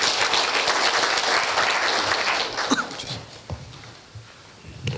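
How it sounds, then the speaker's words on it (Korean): An audience at a Seoul campus town plan announcement event applauds to welcome a presenter, full clapping that thins out and fades toward the end with a few scattered claps. "큰 박수로 맞이해 주시기 바랍니다"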